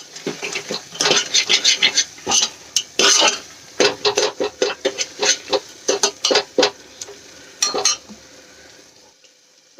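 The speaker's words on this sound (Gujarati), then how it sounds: "બધા મસાલાને સરસ રીતે આપણે મિક્સ કરીને સાંતળી લઈશું" Spices are stirred and sautéed in a pressure cooker, a spoon scraping and knocking against the metal in a quick irregular rhythm over a soft sizzle, close and fairly loud, then tapering off near the end.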